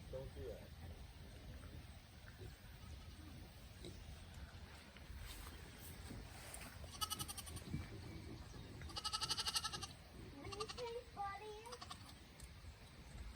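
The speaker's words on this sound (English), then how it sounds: "Do you guys see the new goat?" A Nigerian Dwarf goat bleats outdoors on a small farm with flooding, a few wavering cries in the middle of the stretch amid quiet background noise, with people talking nearby.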